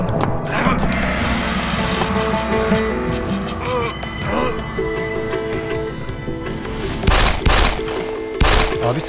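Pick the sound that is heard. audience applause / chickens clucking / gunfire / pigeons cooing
gunfire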